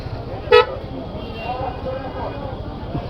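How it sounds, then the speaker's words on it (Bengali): A motorbike horn installed under the fuel tank gives one short, sharp, bright toot over low road and traffic rumble at night in Khulna city. "এই যে হর্নটা হয়েছে চরম"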